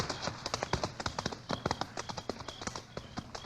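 Horse hooves clip-clop in a quick, steady rhythm of crisp taps on a hard surface, moderately close.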